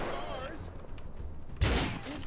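Gunfire in the Rust video game erupts as a loud burst of shots partway through, cutting in after a stretch of people talking.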